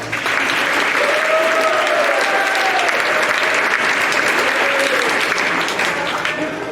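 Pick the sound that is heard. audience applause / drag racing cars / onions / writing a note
audience applause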